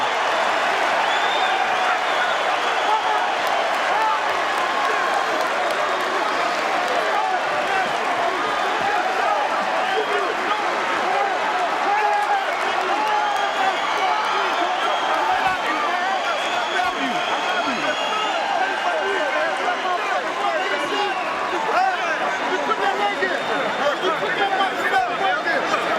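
A large boxing arena crowd roars and cheers continuously after Floyd Mayweather Jr.'s seventh-round knockout of Phillip N'dou, a dense, sustained wash of cheering and applause with no break.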